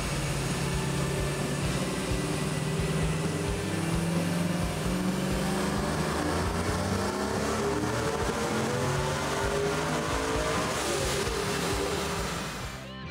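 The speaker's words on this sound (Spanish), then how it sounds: "Puedes comenzar en 3000 RPM como antes, pero llévalo a 6500." A supercharged Chevrolet Trailblazer drift build revving hard from about 3000 up to 6500 RPM, a loud sustained engine roar with rising harmonics that climbs steadily before easing off at the end.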